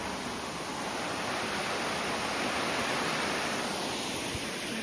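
Water flows along a stream beside a path between two streams at Rivelin. It makes a steady, even rush of broadband noise that stays at constant loudness throughout, with no voices.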